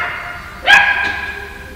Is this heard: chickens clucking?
no